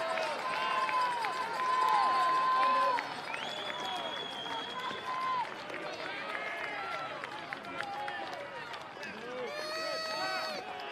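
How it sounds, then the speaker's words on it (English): Crowd at a Cape Cod League baseball playoff between the Bourne Braves and Cotuit Kettleers, a steady wash of cheering and applause that swells early and carries on beneath continuous commentary. "Crowd on their feet."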